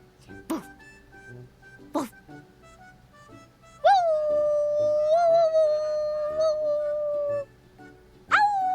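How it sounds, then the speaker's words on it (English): A single dog howls and whimpers through a played clip: short yips at first, then a long sustained howl that wavers in pitch, and a final rising howl, fairly close and clear. "I only heard one dog that entire clip"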